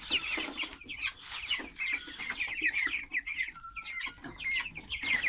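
Chickens being fed cluck busily at close range, a flock of overlapping clucks and squawks in quick irregular bursts with no pauses.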